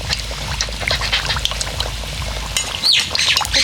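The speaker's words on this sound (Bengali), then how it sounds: "এবারে আমি একে একে ছেড়ে দেবো তেলের মধ্যে।" Potato puris slipped one after another into hot oil, bursting into a loud, steady sizzle and crackle with a brighter spitting flare near the end.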